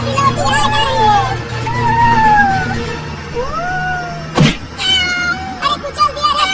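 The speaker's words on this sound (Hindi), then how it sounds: "अरे बचा लेना उस बिल्ली के बच्चे को" A kitten meows repeatedly in a cartoon comedy, its rising and falling cries mixed with background chatter and vehicle noise, with one sharp loud hit partway through.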